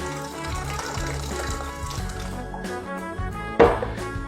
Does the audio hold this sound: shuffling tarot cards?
no